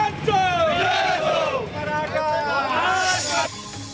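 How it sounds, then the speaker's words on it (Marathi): Maratha community crowd celebrating at Chhatrapati Shivaji Maharaj Chowk in Mahad, Raigad, a loud nearby throng of shouting and chanting voices in repeated rising surges, cheering together. "रायगडच्या महाडमध्ये जल्लोष करण्यात आला"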